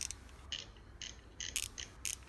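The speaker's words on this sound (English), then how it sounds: "the sound that this ratchet deserves is just fantastic" ELORA 1/4 drive ratchet fitted with a US-made Allen socket clicks in short, crisp bursts, several quick pawl clatters spaced by brief pauses, close and fairly quiet.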